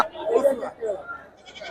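A nearby goat bleats in a loud wavering cry at a sheep and goat market in Hosadurga, followed by a shorter second bleat.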